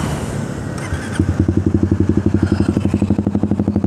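A Suzuki Satria Fi150 motorcycle with a loud racing exhaust idles nearby on a busy street, its engine thumping in a fast, steady, lumpy rhythm after a brief rumble of traffic.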